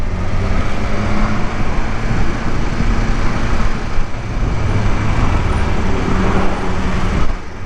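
Dense road traffic roar heard from a 2020 BMW S1000XR motorcycle on a commute, a loud continuous rumble with steady low engine hum and wind rush throughout.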